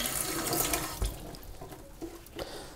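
Tap water runs steadily into a colander over a sink as dyed CDC feathers are rinsed, a close continuous splashing rush with faint shifts in flow.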